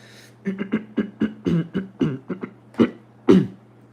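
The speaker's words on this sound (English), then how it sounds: "So I gotta clear my throat." A person clears their throat with a string of short, rough, voiced grunts and rasps, about a dozen close bursts that end in two louder coughing pushes, with no speech.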